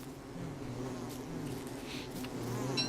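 A steady, faint insect-like buzzing of bees in the game Don't Starve drones continuously, like a swarm hovering nearby, with no talk.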